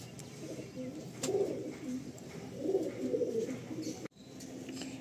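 Andhra and Madrasi pigeons in a Kolkata loft make soft, repeated low cooing calls in a few rolling phrases, close but gentle, with faint background rustle.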